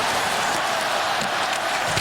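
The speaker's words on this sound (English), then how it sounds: "Listen to this crowd." Arena crowd of about 20,000 at an NHL hockey game between the Vancouver Canucks and Detroit Red Wings roars during a power play, a broad continuous rumble with scattered sharper shouts, loud and steady.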